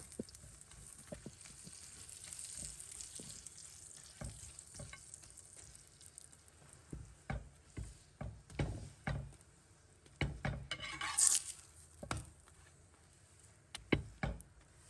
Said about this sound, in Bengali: তো এখন হচ্ছে রুটিটা উল্টিয়ে দিচ্ছি।